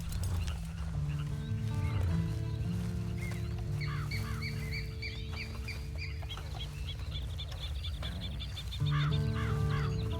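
A horse in the video game Red Dead Online whinnies and snorts amid a busy background of birds, chickens and steady low tones, with no talking.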